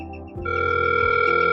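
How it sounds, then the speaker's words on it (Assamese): A steady dial tone from an apartment intercom phone in a building security system starts after a brief low rumble and holds at an even, fairly loud level, with no speech. "ডাইলিং হৈ আছে।"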